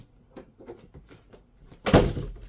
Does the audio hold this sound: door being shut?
yes